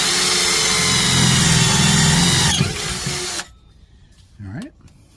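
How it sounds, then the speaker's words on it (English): A power drill bores a pilot hole into the underside of a 2009 Chevy Cobalt while fitting a Curt trailer hitch, running loud and steady for a few seconds before stopping, then a brief second whir. "first I'm going to start with the pilot hole and then work my way up to a 1/2-inch drill bit"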